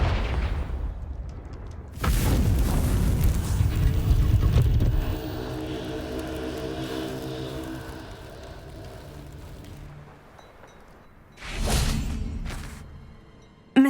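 Confringo spell blasts shattering large vases in the Hogwarts Legacy video game, loud whooshing bursts with a boom, a second burst near the end, in-game music between.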